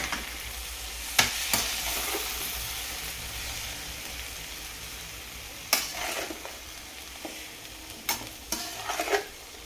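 Moringa flowers stir-fried in a pan make a steady close sizzle, broken by occasional sharp scrapes and taps of a spatula, with no talking.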